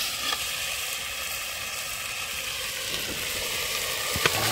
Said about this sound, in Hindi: पूरा रेडी हो गला तापर चिकन टा पकेगा